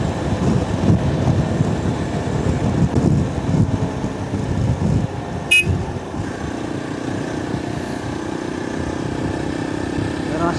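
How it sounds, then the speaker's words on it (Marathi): A two-wheeler is ridden at full speed on an open road during a solo ride, its engine droning under heavy wind buffeting on the microphone, with a rider's voice talking over it. "आपण बिंदास फुल स्पीडमध्ये चालवू शकतो गाडी"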